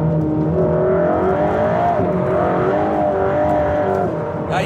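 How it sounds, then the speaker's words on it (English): Race car on a track under braking, with a continuous loud engine note and shifting tonal whine throughout, steady and close with no talk. "Let's look at how the car behaves while braking."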